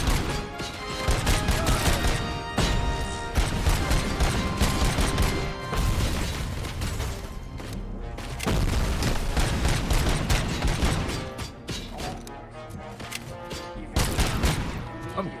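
Sustained gunfire rattles through a shootout in RoboCop: Rogue City, dense rapid bursts and heavy impacts layered almost continuously for the whole stretch, loud and close, with some talking mixed underneath.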